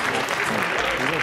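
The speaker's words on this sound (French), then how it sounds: "On l'applaudit bien fort, Célia Arwen" Brief loud clapping from an audience at a costume tournament event, a dense burst of applause for a contestant with a voice talking over it.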